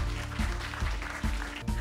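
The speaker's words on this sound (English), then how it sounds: "Let's give a round of applause for Ms." Audience applause at a TEDx talk at UST, a steady wash of clapping throughout, fairly loud and continuous with no voices over it.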